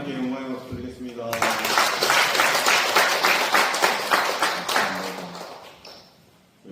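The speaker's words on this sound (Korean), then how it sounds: "하나님께 영광의 박수 드리겠습니다." A church congregation at a Sunday worship service breaks into loud, rhythmic applause that swells for several seconds and then fades, with a voice speaking before and after.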